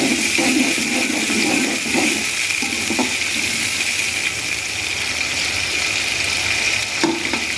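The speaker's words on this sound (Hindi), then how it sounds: "अब हम इनको गोल्डन होने तक फ्राई करेंगे।" Two medium chopped onions fry in about one and a half cups of oil for potato pulao, a constant loud sizzle and hiss with occasional stirring clatter, no voices.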